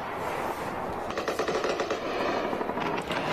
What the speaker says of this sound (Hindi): पाकिस्तान की जानिब से फायर की गई जो हथियार है उनका इस्तेमाल जो है देखा जा सकता है